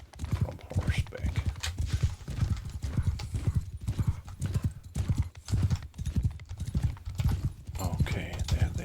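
Horses galloping in the video game Bannerlord: a dense, continuous patter of rapid hoofbeats with occasional whinnies, steady and fairly close.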